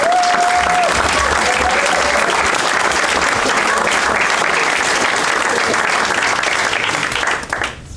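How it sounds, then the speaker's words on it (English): Sustained audience applause at a presidential campaign event in Claremont, New Hampshire, a dense steady clapping from a crowd that fades out near the end. "another round of applause for Ben"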